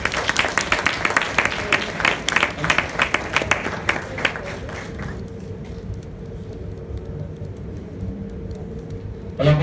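Audience applause at a business presentation on security-company recruitment and selection: dense, loud clapping for about five seconds that thins into scattered claps and room murmur, then fades to a quiet hall.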